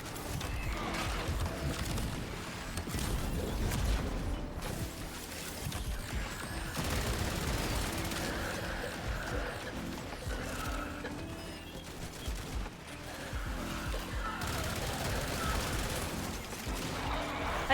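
Dense, continuous game gunfire rattles on for the whole stretch as rapid overlapping shots and bursts with metallic ricochet-like clinks, fairly loud and unbroken, with no voices over it.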